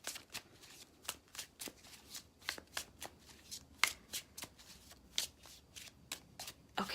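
A tarot card deck is riffled and shuffled by hand, giving a quick run of crisp, close card flutters in an uneven rhythm that carries on for several seconds, with no voices.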